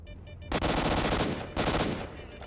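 Two loud, close bursts of automatic AK rifle fire in the game STALKER: Shadow of Chernobyl's Red Forest, each lasting under a second with rapid overlapping shots, separated by a brief pause and no talk.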